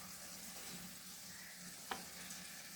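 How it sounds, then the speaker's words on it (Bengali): Garlic and ginger paste hits a hot pan, giving a steady, soft sizzle and fry with one brief clink of a utensil partway through, no talk. "এখন দিব মশলা, মানে হচ্ছে রসুন বাটা আর আদা বাটা"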